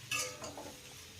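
Raw pumpkin pieces are stirred as they fry in a pan over a medium gas flame for a water-free vegetarian dish, giving a quick scrape and clink of a utensil lasting about a second.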